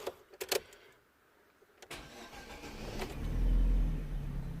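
A Vauxhall Astra 1.6 engine that is running poorly and lacks power idles and then surges, rising into a louder, sustained low rumble after a few sharp clicks at the start.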